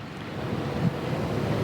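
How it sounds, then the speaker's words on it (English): Strong wind roars steadily into an outdoor microphone at a house fire scene in Castle Rock, a broad continuous rumble with gusty buffeting and no voices. "you see how windy it is out here"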